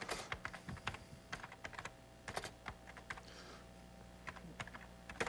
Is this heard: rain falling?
no